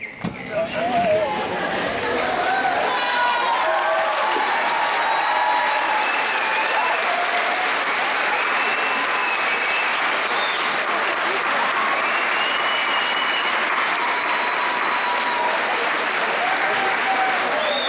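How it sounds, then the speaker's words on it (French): An audience at a graduation ceremony applauds the standing graduates, a dense, sustained wall of clapping that rises quickly and holds steady for the whole stretch, with faint cheers mixed in early on. "j'allais vous demander une bonne main d'applaudissement"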